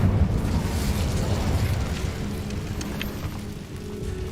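The Incendio fire spell cast in Hogwarts Legacy, a loud roaring burst of flame that rumbles on and gradually fades, with crackling bits near the end.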